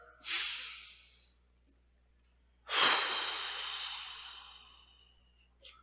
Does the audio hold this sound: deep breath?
yes